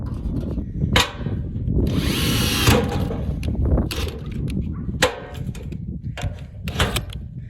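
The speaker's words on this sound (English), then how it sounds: "we're almost done with the hole drilling" A power drill whirs in several short bursts, with one longer grinding run, drilling a hole into a hard material up close.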